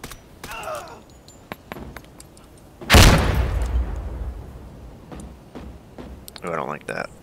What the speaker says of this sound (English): so we are going to throw a frag in there now